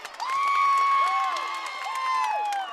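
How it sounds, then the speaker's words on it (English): A gym crowd cheers and shouts loudly at a high school girls' volleyball third-place match. The sustained roar is dense with whistles and shrill voices rising and falling throughout. "Crowd goes wild."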